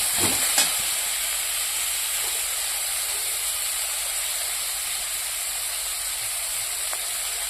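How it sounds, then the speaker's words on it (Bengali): Pumpkin greens frying in oil in a pan with rice paste added, giving a steady, close hiss and sizzle that runs evenly throughout with a few faint clinks near the start and no talk. "ভাজা হয়ে গেছে এবার চাল বাটাটা দিয়ে দেবো"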